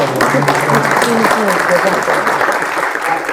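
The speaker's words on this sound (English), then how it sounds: "Round of applause." Sustained audience applause in a conference hall after a mental health talk, a dense steady wash of many hands with chatter mixed in, fairly loud and constant throughout.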